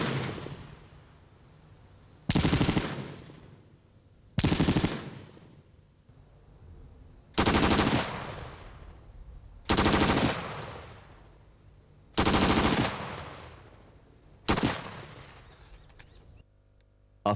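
Minimi light machine gun firing rounds into a wall, six separate loud bursts spaced a couple of seconds apart, each sharp and powerful, with brief echoing decay between them.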